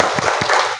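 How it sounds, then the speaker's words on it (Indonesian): A classroom group does a rhythmic tepuk cinta clap, with two sharp, distinct hand claps close together, standing out against a continuous background hiss. "Sebelum memulai pembelajaran, kita tepuk cinta terlebih dahulu."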